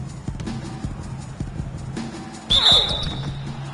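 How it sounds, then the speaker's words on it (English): A referee's whistle blows sharply at an NBA basketball game between the Wizards and the Jazz, one loud shrill blast rising above arena crowd noise and sneaker squeaks. "So the whistle blows on the shot and 2 free throws for the contact right there."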